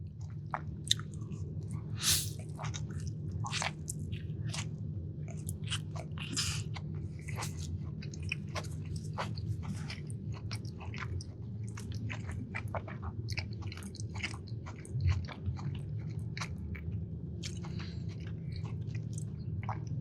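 Someone eats an Italian sub sandwich with peppers close to the mic, with steady wet chewing and frequent crisp bites and crunches over a low background hum.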